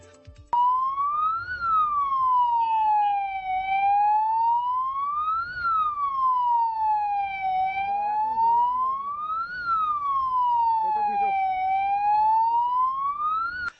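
An ambulance stuck in a traffic jam sounds its siren nearby, with loud, clear wailing tones rising and falling in slow repeated sweeps over a faint background.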